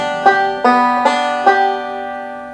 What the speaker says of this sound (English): The roll I use in much of this song is a backward-forward roll or a forward-backward roll.